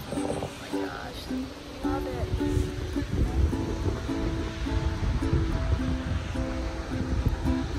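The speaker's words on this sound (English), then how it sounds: "Our next stop is High Falls. It's the largest waterfall in DuPont Forest." Broad, steady roar of High Falls, a 150-foot waterfall in DuPont Forest, North Carolina, rushing continuously throughout with a rough, wash-like texture and a voice talking over it.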